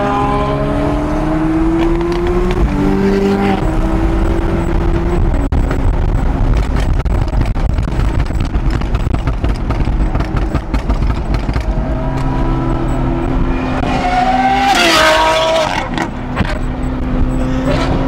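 A 1000-horsepower McLaren sports car driving with a loud, steady engine roar and gear-shift pitch changes, heard close up from inside for a long stretch with no talking.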